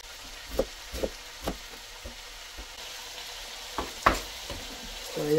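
Spring roll vegetables fry in a pan as a faint, low sizzle. Irregular sharp clicks and taps of utensils or spattering sound over it, close by and without talk.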